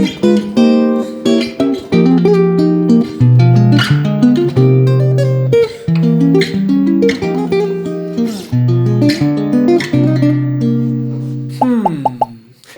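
Jazz guitar passage built on diminished chords, a continuous run of chord stabs and single-note lines with a steady rhythmic pulse, close and fairly loud, ending with a sliding gliss in the last second; no talking.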